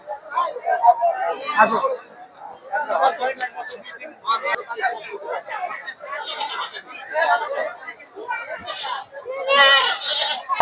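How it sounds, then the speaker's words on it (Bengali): Goats bleat again and again at a busy livestock market ahead of the Eid sacrifice, with near and far calls overlapping amid steady crowd chatter and people talking close by. "এতগুলো ছাগল দেখা যাচ্ছে"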